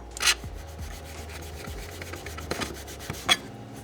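A knife blade scrapes excess cured epoxy off an LED knife handle in a series of uneven rasping strokes, a few sharper and louder scrapes standing out over a low steady background hum, with no talking.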